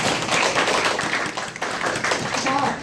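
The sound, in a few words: audience clapping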